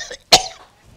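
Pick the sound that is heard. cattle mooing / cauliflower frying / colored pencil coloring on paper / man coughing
man coughing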